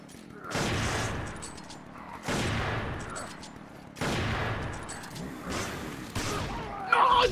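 Gunfire in a modded Resident Evil 5 session: four spaced, heavy bursts of shots, each ringing out with a fading tail, over a quiet background.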